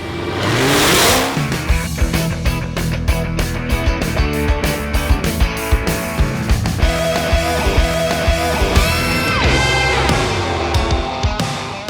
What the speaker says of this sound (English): The 700 horsepower Hellcat.